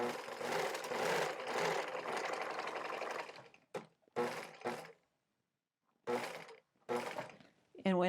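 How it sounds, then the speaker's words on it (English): A sewing machine stitches a dart in a wrap skirt, running in a long steady burst and then several short bursts separated by silent pauses, heard up close. "here's how I sew a dart. I just reverse and then go straight to the dart point."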